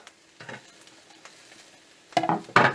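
Oyster mushrooms with parsley, rock salt and crushed pepper stirred and frying in a pan, soft scrapes at first, then two louder, close stirring strokes over a faint sizzle.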